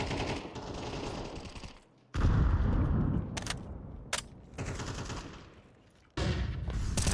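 In Counter-Strike on the Anubis map, an XM shotgun fires in a few heavy, booming blasts spaced a second or two apart, with sharp transients between them and no voices.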